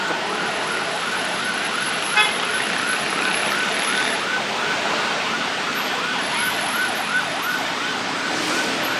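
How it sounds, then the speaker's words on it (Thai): An ambulance siren wails steadily and loudly in traffic-jammed Thai city streets, its rising and falling tone repeating continuously over engine and road noise, with no one speaking. "ต้องให้รถพยาบาลไปก่อนนะ"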